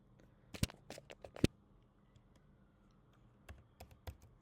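Typing on a computer keyboard in a quiet room, two quick clusters of sharp key clicks separated by a pause, with a couple of louder keystrokes standing out.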